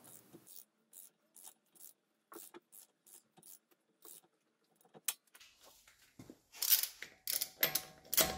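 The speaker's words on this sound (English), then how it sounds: "For the second round, I'll tighten each nut until the resistance is more apparent" Car wheel lug nuts being tightened by hand with a wrench, quiet intermittent ratcheting clicks in short bursts, growing louder and more rasping toward the end.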